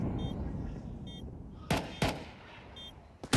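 Several sharp CZ75 pistol shots in a Counter-Strike match, crisp close cracks in a quick irregular string, with two spaced near the middle and a final pair at the end over quiet game ambience, no talk.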